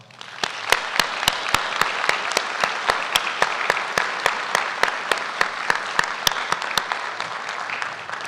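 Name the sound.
audience applause at graduation ceremony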